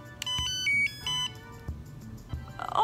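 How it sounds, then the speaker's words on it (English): Phone alert tone heard in a hospital setting, a series of bright electronic beeps in short repeated bursts, fairly close, with brief gaps and a rising buzz at the end. "That sounds like a phone, basically."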